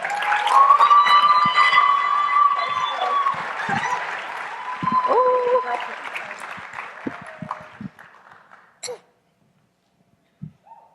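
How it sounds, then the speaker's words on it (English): A comedy-club crowd applauds and whoops for comedian Sandy Sarge, a loud burst of clapping and cheering that thins and fades out, followed by a few scattered claps and sounds. "please give a big round of applause for Sandy"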